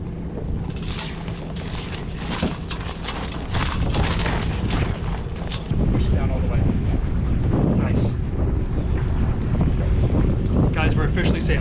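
An 18 foot sailboat under way in the wind, with steady roaring wind buffeting the microphone, water rushing past the hull and occasional creaks and knocks of rigging, continuing at a constant loud level throughout.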